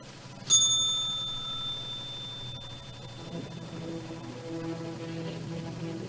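A single bright bell strike closes a daily broadcast, ringing out clearly and fading slowly over a few seconds against a faint steady background.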